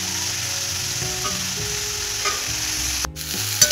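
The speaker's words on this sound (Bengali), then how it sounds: "ফুলকপিটা ভাজি এত সুন্দর সেন্ট উঠেছে না" Cauliflower fries in a pan with a steady close sizzle, with occasional scrapes and knocks of stirring and a sharp clatter near the end.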